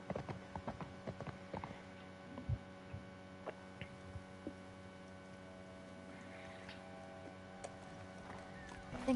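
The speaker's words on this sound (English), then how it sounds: "Is he riding a horse right now" A horse gallops in the video game The Last of Us, its hooves a faint, quick run of clip-clop beats over a low steady hum.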